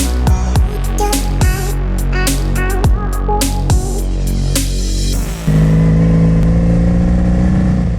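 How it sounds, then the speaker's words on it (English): A 1986 Honda Magna motorcycle engine runs close by, with a steady pulsing idle broken by sharp clattering ticks, then a deeper, louder hum as the revs settle higher. "This is my '86 Honda Magna."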